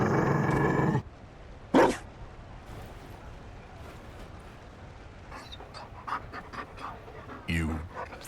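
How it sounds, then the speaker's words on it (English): A Mabari war dog in Dragon Age Inquisition pants in short, breathy bursts, with a loud opening burst and intermittent quieter panting, while people talk. "You found a dog?"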